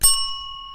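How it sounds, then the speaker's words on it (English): A hand bell struck once for a party game, giving a bright metallic ding that rings on with a clear, slowly fading tone. "anytime I ring the bell, I'm going to point to either Steve or Angel"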